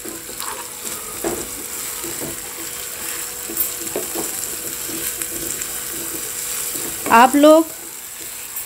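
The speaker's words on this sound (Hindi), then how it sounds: "टमाटर को भी मैं अच्छी तरह से भून लूंगी।" Tomatoes fry in a pan for mutton keema masala, a low steady sizzle with occasional stirring scrapes, while someone talks over it.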